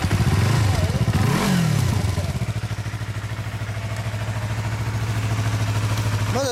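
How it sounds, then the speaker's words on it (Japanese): A 2017 Yamaha YZF-R25 ABS fitted with a Beams aftermarket exhaust blips its throttle twice in quick, rising revs, then settles into a steady, close, throbbing idle. "エンジン音聞かせてくれる"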